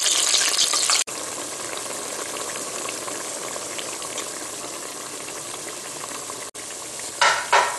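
Eggplant slices sizzle and fry in a pan, a steady close crackle with brief scraping bursts as the slices are turned over near the end.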